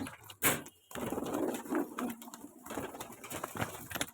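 Breeding pairs of domestic pigeons, including two males, coo nearby in soft, repeated throaty rolls with brief pauses and a few sharp scrapes, with no one talking.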